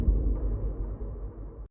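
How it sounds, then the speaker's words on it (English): A low boom sound effect from an underground house production sample pack, a single deep, rumbling hit that sustains for over a second before cutting off abruptly, heard alone. "you've got your low boom"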